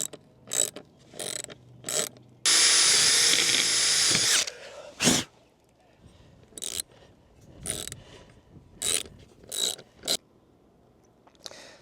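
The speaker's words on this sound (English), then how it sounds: "so we got a 3/8 ratchet." A 3/8 ratchet tightens a bolt on copper air-conditioning line fittings in a van, with short bursts of rapid clicking repeated in quick strokes, plus one longer continuous whir partway through.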